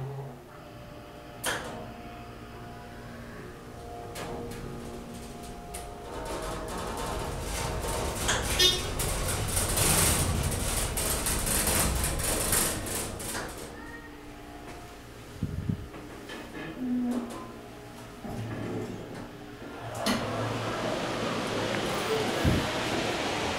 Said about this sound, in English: Now listen to this beautiful motor